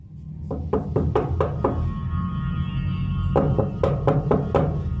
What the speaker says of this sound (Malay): saya mendengar ketukan dari luar Bang Ikhwan.